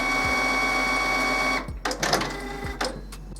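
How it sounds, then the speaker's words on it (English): A printer runs its cleaning process with a steady mechanical whir and hum that is broken by periodic clicks. Halfway through it shifts into irregular clunks and rattles, heard close and alone. "this sets the printer off doing its cleaning process"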